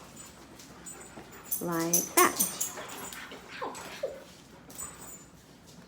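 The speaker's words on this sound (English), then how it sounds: "The dogs have gone crazy." Dogs whimper, yip and bark close by in short, excited bursts, with a person talking over them.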